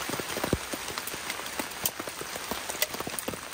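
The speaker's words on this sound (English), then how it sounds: "sound of rain on the tarp." Rain patters densely on a camping tarp in the woods, a close, steady crackle of drops with sharper individual hits.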